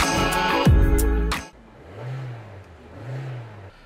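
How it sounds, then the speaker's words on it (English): A 2020 Kia Forte GT engine revs loudly and then drops away to a low, quiet drone while driving, with a couple of gentle swells in engine note later on. "So as I'm driving this beautiful Forte GT 2020"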